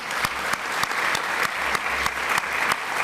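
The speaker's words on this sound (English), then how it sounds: "We can give an applause for that" Steady applause from an audience at a university philanthropy celebration, dense and continuous clapping with regular sharper accents, fairly close and loud.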